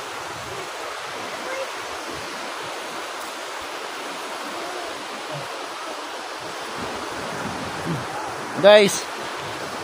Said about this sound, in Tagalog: ito yung dagat sa amin